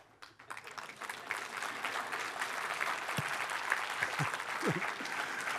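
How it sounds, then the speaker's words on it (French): Congregation applauding during a church baptism service, a dense steady wash of clapping that builds and holds loud, with a few voices and whoops rising over it near the end. "Les baptisés applaudissent en arrière."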